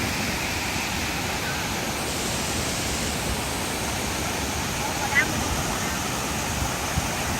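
Steady broadband rush of a waterfall in Laos, loud and continuous throughout with no clear breaks, one faint brief chirp partway through.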